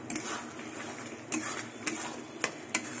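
Spice paste sautéing in oil in a pan for a Bengali banana-flower dish, soft steady sizzle with a few sharp utensil taps and scrapes, close and quiet.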